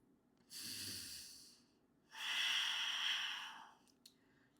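Two long, audible breaths during a yoga forearm plank: a softer inhale followed by a fuller, louder exhale, close and alone with no talking.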